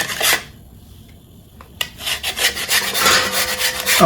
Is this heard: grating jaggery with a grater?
yes